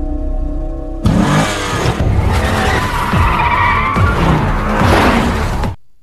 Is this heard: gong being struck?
no